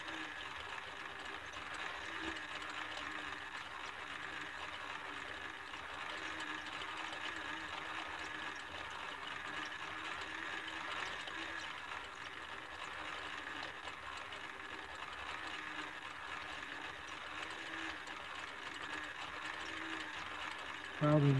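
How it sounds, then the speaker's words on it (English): A coil winding machine turns steadily while rewinding the field coil of a 1930s Zenith 7S261 radio, giving a continuous, even mechanical whir from start to finish. "Probably need to add some more oil to my turning machine here too."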